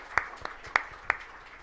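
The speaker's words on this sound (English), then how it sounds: "Let us give ourselves a big round of applause for singing so nicely." Sparse, scattered claps from a church congregation at a Christmas vigil applauding a youth choir, four or five distinct hand claps spaced unevenly over a quiet room.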